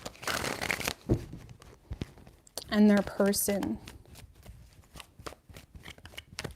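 Tarot cards are shuffled by hand in a few quick riffling bursts near the middle, with a person speaking before and after.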